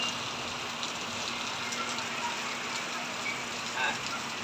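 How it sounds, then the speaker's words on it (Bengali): Heavy rain falls in a steady, dense hiss that stays constant and fairly loud throughout, with no voices over it. "হ্যাঁ এখানেও তো ওরকম বৃষ্টি"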